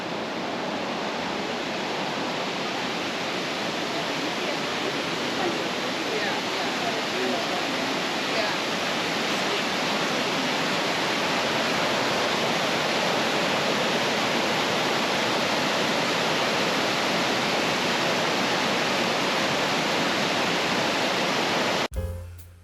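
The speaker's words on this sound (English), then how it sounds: "Wakeena Falls is a spectacular 242-foot tiered waterfall." Wakeena Falls, a 242-foot tiered waterfall in the Columbia River Gorge, roars as a loud, unbroken broadband rush that holds steady for over twenty seconds before cutting off abruptly.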